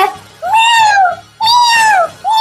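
A person imitating a cat with drawn-out, whining meows, three loud, close calls in a row, each rising and then falling in pitch, with no other sound between them.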